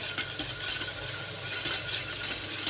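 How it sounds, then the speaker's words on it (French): A whisk beats a sauce in a bowl until it turns frothy, giving quick, rhythmic scraping and clinking strokes at close range with a steady bright hiss and no voices. "on va prendre un fouet. Et on fouette jusqu'à ce que ça devienne très mousseux"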